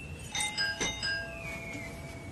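A home doorbell rings with a bright two-tone chime, three struck tones close together followed by a fading ring-out, heard clearly indoors without talk.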